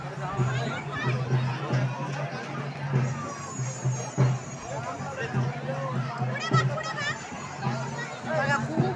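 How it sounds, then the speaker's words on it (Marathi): A dense crowd fills the grounds of a Bhairav Baba temple fair, with continuous overlapping chatter, children's voices and general hubbub. The loud, close babble holds steady throughout. "किती छान मंदिर आहे इथं ते भैरव बाबाचं मंदिर आहे इथं खूप नवस वगैरे देता बघा किती गर्दी आहे"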